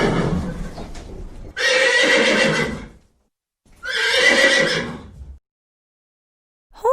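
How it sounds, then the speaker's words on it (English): Two loud, drawn-out horse whinnies, each lasting over a second with bright shrill tones, separated by silence, with a brief start of a third at the very end. "Horse."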